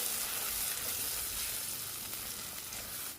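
Green pea paste sizzles in a pan while being stirred. The frying hiss is continuous and fairly soft, fading slightly toward the end.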